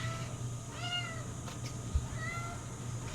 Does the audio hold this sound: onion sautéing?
no